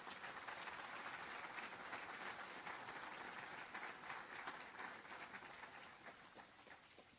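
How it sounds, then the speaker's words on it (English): A round of applause fills the hall during County Executive McMahon's 2025 State of the County address, a dense, even patter of many hands, heard faint and distant, slowly tapering off toward the end. "Please give him a round of applause."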